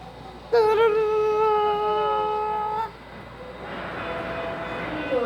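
A subway train's horn sounds a sustained chord for a couple of seconds, then cuts off, leaving the rumbling rush of the train running on, at Yeongdeungpo-gu Office station.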